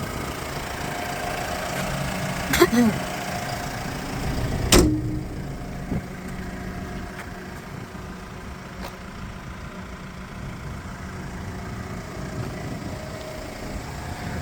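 A Linde H80D-03 diesel forklift with an 8-tonne capacity and a six-cylinder engine idles with a steady, fairly quiet low hum, marked by a few sharp clicks early on.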